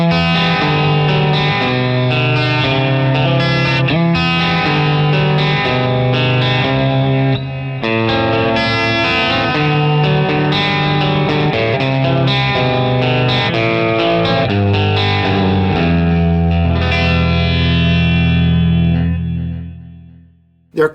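An electric guitar plays through a 20-watt Revv D20 amp with both preamp and power amp driven hard, giving a loud, saturated, sustained chord passage that rings out for about twenty seconds before decaying.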